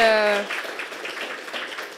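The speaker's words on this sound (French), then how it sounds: "Je pense qu'on peut les applaudir pour leur participation" Audience at a finance IT careers evening breaks into applause, a steady wash of many hands clapping at moderate distance after a trailing voice fades out at the start.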